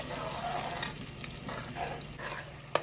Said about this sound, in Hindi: ये जो हमने ग्रेवी बनाई है ये डाल देते हैं इसमें। अब इसको 2 मिनट भूननी है